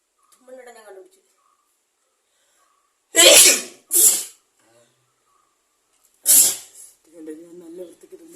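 Three loud, close sneezes, two in quick succession and a third a couple of seconds later, come during a sneezing challenge, with a voice speaking briefly before and after.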